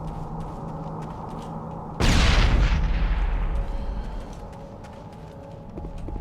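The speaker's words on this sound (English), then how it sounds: "Oh, that's a grenade." A grenade explodes in the video game Mass Effect 1, one sudden loud boom that bursts out over low ambient hum and rolls away in a long fading rumble.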